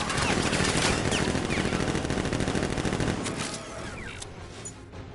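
Militia guns open fire in Batman: Arkham Knight, a dense, loud automatic barrage of rapid overlapping shots that keeps going for several seconds, then thins out and tapers off near the end.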